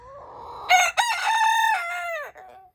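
A Silkie chicken lets out a loud, drawn-out crowing call up close, rising then holding before trailing off into a brief cluck.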